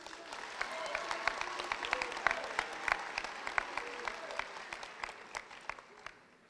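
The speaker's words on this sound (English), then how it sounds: "another round of applause for you, the graduates" Faint, sparse applause from a crowd at a high school graduation ceremony, scattered individual claps over a soft bed of many hands, steady and distant throughout.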